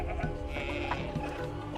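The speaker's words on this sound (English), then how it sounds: "All of our cows and sheep and stuff are down here." Sheep bleat in the video game Cult of the Lamb, with a few short, close calls over a busy game background.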